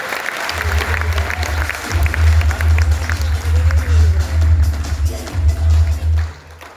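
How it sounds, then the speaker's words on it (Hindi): An audience at a Safe Shop diamond-rank celebration in Lakhisarai bursts into loud, sustained clapping that swells and continues for several seconds before fading, with crowd noise mixed in. "मैं जरूर चाहूंगा इनके लिए जोरदार ताली"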